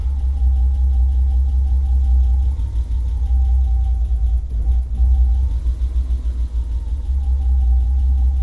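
An old BMW car found abandoned in a forest idles with its engine running, a steady close low rumble with a faint whine that holds throughout.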